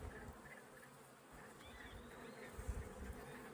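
Steady buzzing of honeybees at a hive hums throughout, close and continuous, with a faint higher whine drifting in and out.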